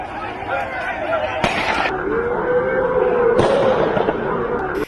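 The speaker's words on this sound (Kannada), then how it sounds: "ಸತೀಶ್ ರೆಡ್ಡಿಯ ಗನ್ಮ್ಯಾನ್ ಜನಾರ್ದನ ಮನೆಯ ಕಡೆಗೆ ನೇರವಾಗಿ ಗುಂಡು ಹಾರಿಸುತ್ತಾನೆ." Two sharp, loud gunshot bangs about two seconds apart ring out during a street clash in Bellary, heard over a continuous voice talking in news footage.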